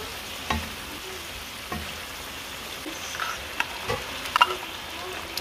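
Dark soy sauce goes into a sizzling pan with spices and a peri-peri rub, a soft continuous frying hiss with scattered crackles and a few brief sharper pops, fairly faint and close.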